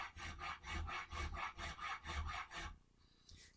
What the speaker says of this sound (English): I'm going to use my rasp, just maybe the first third of it